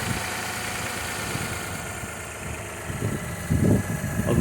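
Close up, a 340k-mileage Lexus RX300 SE-L idles with a steady, even engine hum, and a few heavier pulses of low rumble build up toward the end.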